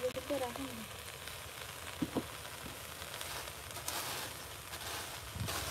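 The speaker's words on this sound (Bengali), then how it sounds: "দেখুন পাতাকপি ভাজি" Sliced cabbage frying in a pan gives a steady, close sizzle with occasional scrapes and clinks of a spatula stirring, while a voice speaks softly at the start.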